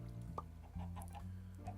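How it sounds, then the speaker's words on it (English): Minecraft chickens clucking in the video game, a steady run of close, repeated low clucks that shifts pitch and pattern every half second or so, with no talk over it. "Bone white chickens"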